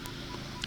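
Metal detector sweeping for coins in a park, sounding a short high electronic target tone near the end over a steady low hum.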